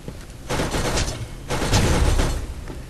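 Gunfire from a turret in the video game Borderlands, two dense broadband bursts of rapid shots about a second apart, loud and close with a low rumble underneath.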